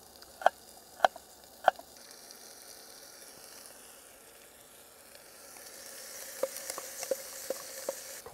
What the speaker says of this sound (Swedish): Och det är perfekt att steka grönsakerna i.